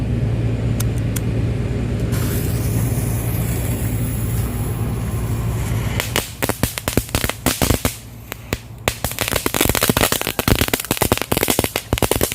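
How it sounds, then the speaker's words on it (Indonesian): Jumbo 'telur komodo' firecracker set inside bamboo: a steady roaring rumble gives way to a rapid burst of loud, sharp cracks and pops that continues to the end. "Sekarang petasan telur komodo kita masukin di bambu."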